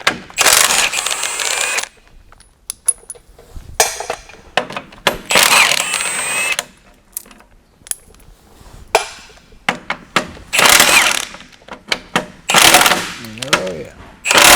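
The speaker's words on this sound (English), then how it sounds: "We're going to take all the bolts out of the grass knives, one on each side of the row unit." Power tool bursts loosening bolts from the grass knives on a John Deere 40 or 90 Series corn head row unit, several loud whirring runs separated by pauses, with people talking between them.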